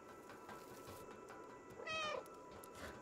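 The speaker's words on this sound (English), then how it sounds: "Thanks for the button prompt to meow." A single short cat meow from the video game Stray sounds over faint ambient game background, quiet and close, with no one talking.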